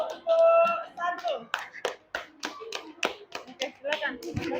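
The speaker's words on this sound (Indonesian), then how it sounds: "beri tepuk tangan untuk kelompok 1" A classroom of children clapping for a group after its presentation, a ragged run of separate close hand claps mixed with children's voices and talk.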